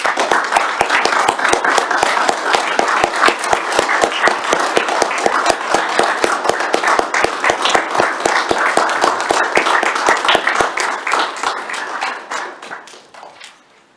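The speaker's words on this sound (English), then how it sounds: "I do want to give a round of applause for our CPR." Applause at a regular public meeting, with scattered individual claps forming an uneven, fairly close rhythm that carries on steadily for a while and then thins out and fades near the end.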